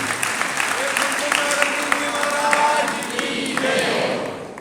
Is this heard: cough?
no